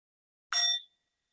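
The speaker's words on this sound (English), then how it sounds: "I'll ring the bell." A single bright meditation bell strikes once, clear and close, ringing with a short shimmering tail that fades within about half a second in an otherwise silent space.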